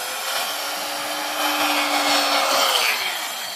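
A New-Tech 3-inch rotary cutter runs through heavy-duty fabric with a continuous, close whirring hiss that holds steady for several seconds, slightly louder toward the end.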